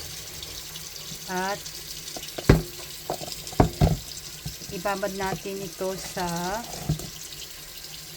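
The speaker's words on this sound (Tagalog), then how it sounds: "Ngayon maglagay tayo ng tubig" Tap water splashes onto washed galunggong fish in a sink, a steady wash running beneath someone talking in Tagalog.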